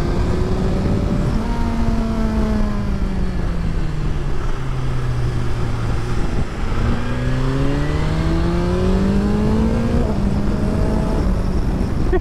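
A 2024 BMW S 1000 XR motorcycle engine accelerating while riding, loud and continuous, its pitch sweeping down and rising again through gear changes.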